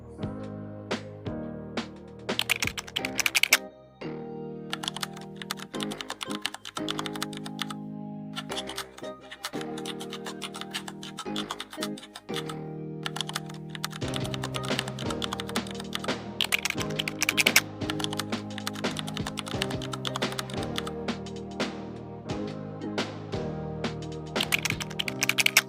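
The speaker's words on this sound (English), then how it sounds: "so we're gonna type that out" Rapid typing on a computer keyboard, with clusters of close, crisp key clicks and short pauses, runs steadily over a sustained tonal background throughout.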